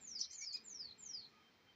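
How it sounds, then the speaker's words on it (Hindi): Small birds chirp outdoors in four quick, high, descending tweets, fairly close and clear, before fading to a quiet background. "अच्छा ये चिड़िया की आवाज़ है"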